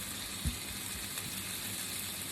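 Fried rice with peas crackles in a pan, giving a steady, faint, even sizzle throughout, with a soft knock near the start.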